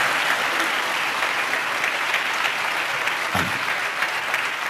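A church congregation claps steadily through a sermon, giving a dense, even wash of applause from many hands. The clapping is sustained at a constant level from start to finish, with no clear voices above it.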